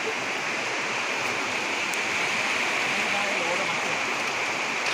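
Water rushes over Moromland waterfall at Phillobari in a loud, constant broadband roar that stays close and unbroken throughout.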